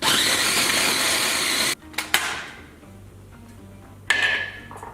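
A blender whizzes dried figs into a paste for a recipe, a loud, close whirring that stops abruptly, then a few clunks and taps follow, and the motor briefly starts again near the end.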